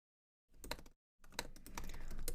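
Fingers typing an email and password on a computer keyboard, a close burst of rapid clicking keystrokes, a brief pause, then a longer continuous run of typing.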